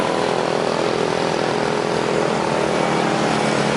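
Propeller airplane engine droning steadily and loudly near the runway approach of Da Nang airport on a clear morning by the bay, continuous with no gaps.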